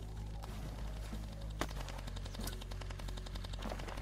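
Rapid machine gun fire in the Nuke Them All strategy video game, continuous dense bursts of gunshots rattling over a heavy low rumble throughout.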